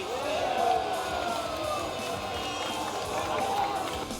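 Indonesia national team supporters at an outdoor big-screen football viewing in Balikpapan, a broad crowd roar and cheering swelling and holding for several seconds, with a narrator's voice over it.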